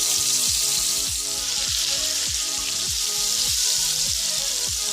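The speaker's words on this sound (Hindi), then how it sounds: "तवे पे मैंने ऑयल डाल दिया आधा कप। अब हम इस पे स्लो फ्लेम पे हम इसे कुक करेंगे।" Chicken pieces frying in half a cup of oil on a flat tawa over a slow flame, a steady close sizzle with a recurring rhythmic low thump underneath.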